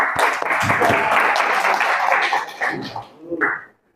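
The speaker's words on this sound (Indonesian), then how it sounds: "tepuk tangan untuk kita semua dulu." Classroom students clapping together for several seconds, a dense burst of applause with some voices mixed in, tapering off with a short vocal sound near the end.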